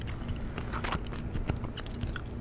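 Gum is chewed right at the microphone during a close-whispered ASMR film review, giving a steady, moist crunching and smacking texture with small sharp clicks and no audible talk.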